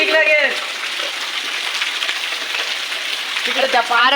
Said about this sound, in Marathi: बघा मित्रांनो किती पाऊस पडला